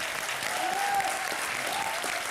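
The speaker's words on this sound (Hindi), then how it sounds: "जितने मीडिया वाले हैं इनके लिए जोरदार तालियां हो जाए" A studio audience at a comedy roast show breaks into loud, sustained applause, a dense clapping wash with a faint voice or cheer briefly riding over it.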